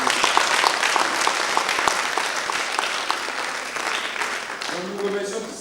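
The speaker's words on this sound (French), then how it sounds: "Mesdames et messieurs, je vous prie d'applaudir très fort le Parlement européen." An audience at a women's leadership forum at the European Parliament in Strasbourg claps loudly and steadily, with a voice starting to speak over the clapping as it fades at the end.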